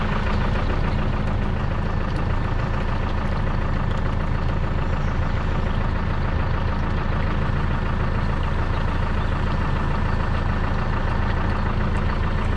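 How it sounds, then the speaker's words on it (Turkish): Deutz Fahr tractor idling steadily outdoors with its power take-off shaft engaged, a continuous low diesel rumble and drone holding constant throughout, close and fairly loud with no talk over it. "Dışarıdan kuyruk milini çalıştırdım arkadaşlar."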